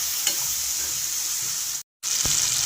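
Green jackfruit and prawns frying slowly in a pan with salt and turmeric, giving a steady soft sizzle with a faint stir tap, a brief dropout, then a sharper scrape near the end.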